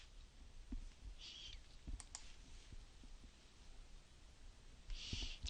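A computer mouse clicks a few times, faint, sharp taps spaced irregularly over a quiet room hiss with light rustling.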